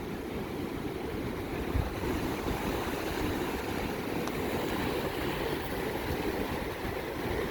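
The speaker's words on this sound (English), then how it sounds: "But in the winter time, you get some good waves here." Ocean waves wash steadily against a jetty at a San Francisco Bay Area beach, a broad continuous surf roar with wind and no distinct breaks, close and fairly loud throughout.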